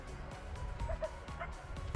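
Dogs on a beach, paws in the water, give a few short yips and bow-wow barks, fairly close, over a steady wash of surf and wind with faint voices in the background.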